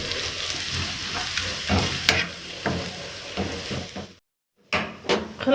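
Four garlic cloves frying in a little corn oil in a pan over onion, a close steady sizzle with spatula scrapes and clacks, a brief silent cut, then sizzling resumes.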